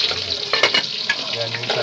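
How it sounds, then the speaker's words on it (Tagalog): Bangus (milkfish) frying in hot oil, a dense steady sizzle with crackling pops and occasional stirring, close and fairly loud throughout. "bigyan ko na kayo ng may checker para magpirito lang kayo ng bangus guys"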